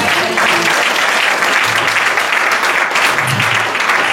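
A congregation at a praise and worship gathering in Seneffe, Belgium, claps and cheers together in loud, dense, continuous applause that fills the room from start to end.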